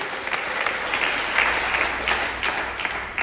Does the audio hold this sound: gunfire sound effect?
no